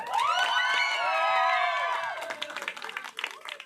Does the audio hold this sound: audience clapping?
yes